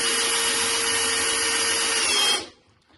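A Makita cordless drill, DHP482 or DDF485, runs at steady high speed for over two seconds, a loud continuous whine that cuts off abruptly and leaves near silence.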